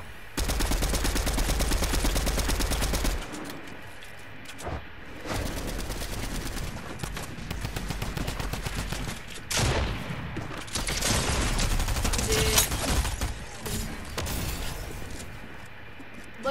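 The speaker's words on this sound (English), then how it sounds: "Some kid's fucking shooting me from the back." Rapid, loud bursts of automatic gunfire in a shooter video game, the sustained fusillades broken by brief pauses and mechanical clatter, with no talk over them.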